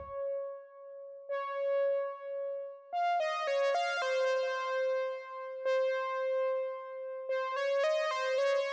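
Dark melodic trap-style sample built in FL Studio from guitar, bass, a Xenology pad and a mini lead: a sustained tone is joined by layered plucked and synth notes in a slow, steady melody, with no talking.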